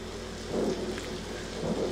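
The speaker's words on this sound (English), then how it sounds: "rain and thunder" A soundboard effect of rain and thunder plays: steady hiss of falling rain with low rumbling swells of thunder, faint and unbroken, with no talking.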